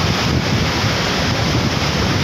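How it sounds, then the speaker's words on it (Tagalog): Strong wind roars continuously into the microphone, loud and buffeting, with a surf-like wash and no voices. "Lakas ang hangin"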